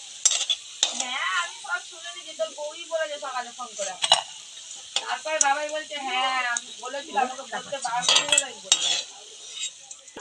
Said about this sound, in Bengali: যেটা লাস্ট আছে সেগুলো ভেজে নিচ্ছি